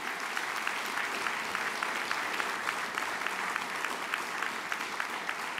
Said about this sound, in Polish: Wielkie brawa dla twórców i dla Aleksandra Kwaśniewskiego.